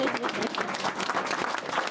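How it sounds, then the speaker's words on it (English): A crowd applauding outdoors at a park groundbreaking in Tallahassee, a fairly dense, steady burst of many hands clapping at moderate distance, with faint voices mixed in. "you may applaud"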